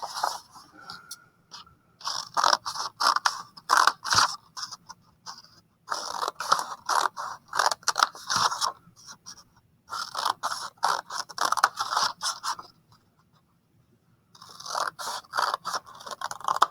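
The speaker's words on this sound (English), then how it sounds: "So I cut through the fold and over to the stop cutting line." Scissors snip slits through folded paper for a weaving craft, a run of close, crisp cutting strokes in bursts with short pauses between, near and alone with no talking.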